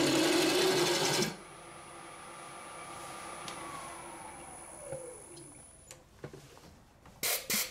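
Wood lathe hollowing a burl firewood vase, with the vibration carried through a tripod touching the lathe stand: a loud, buzzing whir for about a second, then a steadier, quieter mechanical hum with a few clanks and rattles near the end.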